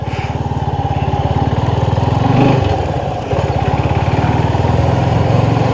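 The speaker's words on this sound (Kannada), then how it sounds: "ಜಿಕ್ಸರ್, ಈ ಗಾಡಿ ಸೌಂಡೇ ಇಷ್ಟ ನಂಗೆ ಆ್ಯಕ್ಚುಲಿ. ಒಳ್ಳೆ ಸ್ಮೂತ್ ಸೌಂಡು" A Suzuki Gixxer 250cc motorcycle engine runs steadily at close range with a smooth, even low pulse, swelling slightly midway, dipping briefly, then settling back to a constant idle-like throb, with no talk over it.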